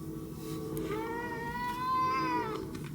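A cat named Nancy, once a feral kitten, gives one drawn-out rising and falling meow close by, asking for breakfast crunchies, over a quiet background hum.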